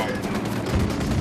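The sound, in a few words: gunfire from video game Ghost Recon Wildlands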